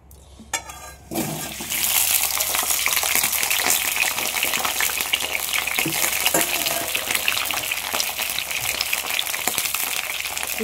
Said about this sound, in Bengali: তেলটা গরম হচ্ছে, দিয়ে দেব কেটে রাখা কাঁকরোলগুলো।